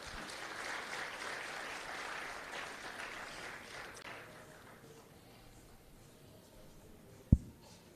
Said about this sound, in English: So let's give the SAFTU representative a round of applause.